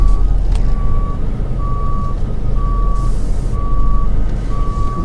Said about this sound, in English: We can back the vehicle up.